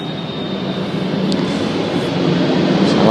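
An airplane passes overhead at night, a steady low engine roar that slowly builds in loudness over a few seconds, with no voices.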